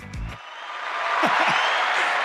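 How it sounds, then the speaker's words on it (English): Studio audience applause on a talk show, swelling from a brief low voice into a steady, broad wash of clapping that holds loud to the end. "give her a round of applause"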